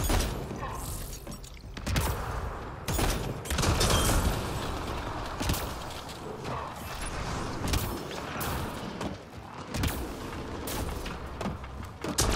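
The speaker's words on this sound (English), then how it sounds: "There you go, cryo explosions left and right." Repeated bursts of icy cryo blasts and shattering cracks in Apex Legends, firing off in quick succession over a steady, busy background.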